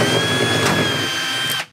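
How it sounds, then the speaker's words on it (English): Cordless power driver backing screws out of a furnace control board assembly, a steady close whirring drone that holds for nearly two seconds and then cuts off abruptly. "So if I take these two screws out,"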